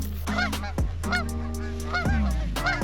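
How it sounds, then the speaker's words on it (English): A low flock of Canada geese passes overhead during a hunt in eastern Montana, loud repeated honks coming in several overlapping bursts close above, with no talking. "The bill of my hat covered the approach of a dangerously low group of geese above me."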